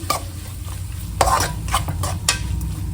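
Chopped tomatoes fry over a high flame with a low sizzle, broken by several sharp scraping stirs of a spoon against the pan, close and fairly loud.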